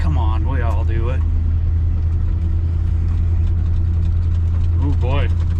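A 1971 GMC 1500 pickup truck, running for the first time in 28 years, drives along with its engine giving a steady, loud low rumble, while someone talks over it at the start and end.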